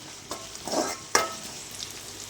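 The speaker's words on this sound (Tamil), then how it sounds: "பொடியாக நறுக்கின வெங்காயம் சேர்த்துக்கலாம்" Chopped onion and crushed garlic sautéing in a pan for a drumstick leaf stir-fry: a soft, close sizzle broken by a few scraping stirs and one sharp clink of a utensil, with no talking.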